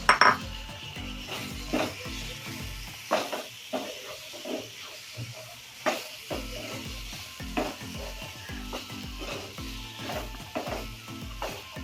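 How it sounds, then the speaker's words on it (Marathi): A spoon stirs peas and cauliflower with spices in a hot pan, scraping and clinking against the metal in an irregular rhythm over a soft sizzle, close and fairly quiet with no talking. "आता हे आपल्याला मिक्स करून घ्यायचं आहे याच्यामध्ये।"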